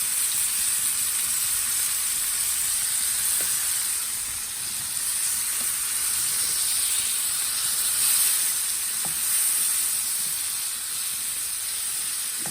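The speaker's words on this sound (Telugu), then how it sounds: "ఇది మన ఆనియన్ బ్రౌన్ కలర్లోకి వేగిపోయింది ఇప్పుడు మనం ఉడికించి పెట్టుకున్న దొండకాయ ఉన్నా కదా అందుకన్నప్పుడు ఇది కూడా వేసేసుకుందాం" Boiled ivy gourd added to onions browned in a pan, a steady loud hiss and sizzle of frying that holds constant throughout, with no voices.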